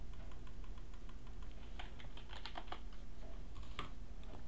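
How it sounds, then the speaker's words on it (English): Rapid clicks patter in quick bursts over steady background music, crisp and close, with no talking. "Guys, you can hear me clicking."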